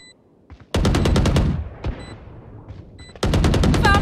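Rapid automatic gunfire in the video game Valorant comes in two loud, close bursts of evenly spaced shots, with a few single shots and faint interface tones between them.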